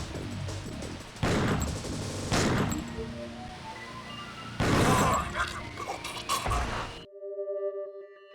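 Gunfire in Killer7 on Steam: two or three sharp, loud bursts stand out over a steady game soundscape, ending in a low electronic tone.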